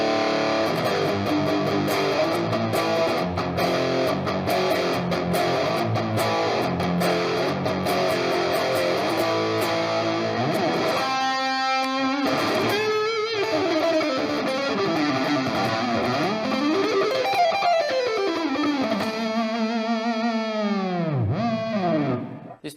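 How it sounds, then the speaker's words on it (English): A Schecter Hellraiser electric guitar with active EMG pickups plays a loud, heavily distorted riff of chugging chords, then sustained bent notes and pitch-swooping dive effects before cutting off abruptly. "this is the Schecter Hellraiser collection. This series features active EMG pickups"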